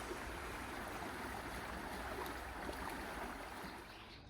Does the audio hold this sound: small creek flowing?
yes